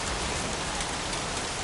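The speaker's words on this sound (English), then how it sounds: "Jeez, won't this rain ever let up?" Steady, dense rainfall in the video game Heavy Rain, a continuous close wash of drops pattering on surfaces, constant in level with no pauses or voices.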